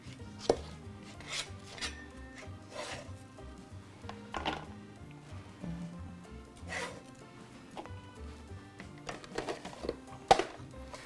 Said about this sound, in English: if I'm doing a lot of chopping like this, will use this little chopper just because it is so much faster